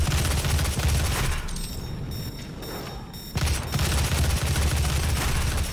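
Dense, loud gunfire from the video game Doom fills the clip in rapid overlapping bursts, dipping briefly about midway before the barrage resumes at full strength.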